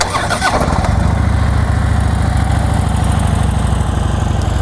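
A Harley-Davidson Ultra Classic motorcycle cranks over and fires up, then settles into a loud, close, steady throbbing run.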